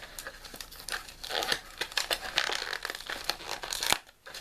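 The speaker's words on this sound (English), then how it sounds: "rip out these darts. Looks like they're held back with these plastic things." Nerf Mega darts being ripped free from stiff plastic packaging retainers, a continuous close crinkling and tearing of plastic that surges in bursts before stopping abruptly near the end.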